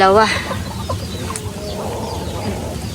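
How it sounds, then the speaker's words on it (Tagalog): A native chicken clucks and squawks close by, a loud call at the start followed by softer clucking over low background noise. "Si Bossing po yung magkakatay ng manok."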